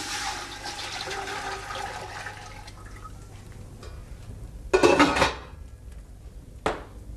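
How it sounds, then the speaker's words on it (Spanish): Water is poured into a pot to scald wild boar meat beside a fire, a steady close rush of splashing liquid that tails off, then a few louder metallic knocks and bursts of sloshing. "Y tengo aquí agua para poder escaldar."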